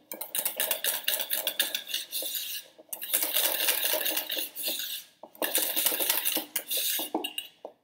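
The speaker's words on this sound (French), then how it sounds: "un premier tiers de crème montée pour pouvoir mélanger notre crème pâtissière." Whipped cream being folded into pastry cream in a bowl to make crème diplomate, giving steady scraping and clinking of a utensil against the bowl in three long bursts with brief pauses between, close and fairly loud.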